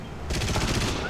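An aircraft machine gun in War Thunder fires one continuous rapid burst, its fast rattling pulses starting abruptly and holding loud and steady to the end.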